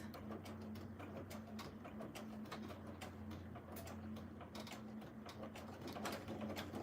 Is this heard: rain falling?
no